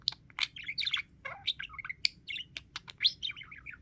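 Budgie (parakeet) chirping and chattering at nap time, a rapid run of bright, close chirps and warbles with almost no pause between them.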